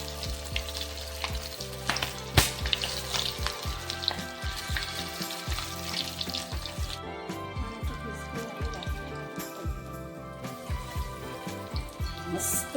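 Bread rolls deep frying in hot oil until golden make a dense, crackling sizzle full of rapid pops and bubbling, loud and close, with occasional sharper spits and a noticeable shift in texture partway through, no talking.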